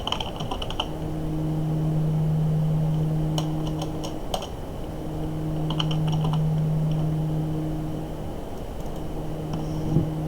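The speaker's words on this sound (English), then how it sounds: "let me go ahead and type it again" Computer keyboard typing in short bursts, clicks clustered with pauses between, heard up close over a steady hum of a fan or room tone with a faint tonal whine.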